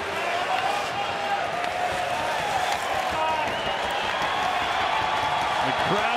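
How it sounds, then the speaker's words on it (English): A hockey arena crowd at a Carolina Hurricanes versus Dallas Stars NHL game roars and applauds in a dense, sustained wash, while a commentator talks over the noise. "The crowd continuing."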